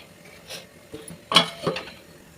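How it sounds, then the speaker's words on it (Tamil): A metal lid set onto a cooking pot of fish in a home kitchen: a couple of soft clinks, then a louder close clatter and a lighter rattle. "நம்ம தட்டு போட்டு முடிக்கலாம்."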